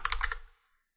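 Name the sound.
computer keyboard typing a terminal command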